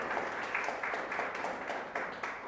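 A church congregation applauding loudly and continuously, a dense wash of many hands clapping with slight pulses of rhythm, filling the room with no talk over it.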